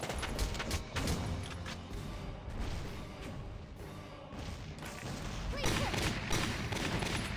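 Gunfire in the tactical war game Valkyria Chronicles, a dense fusillade of rapid overlapping shots and thuds rolling on for several seconds, fairly quiet and sustained, with no voices.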